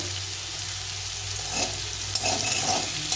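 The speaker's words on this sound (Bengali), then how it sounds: "সুন্দর করে ভেজে নিতে হবে, তাহলে খেতে ভালো লাগে। এবার একটু ভেজে নেব" Sliced bitter gourd fries in oil in a pan, a steady close sizzle with occasional stirring scrapes and light clatter, no voices.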